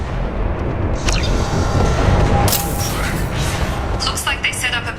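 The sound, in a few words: canisters exploding in video game Mass Effect 2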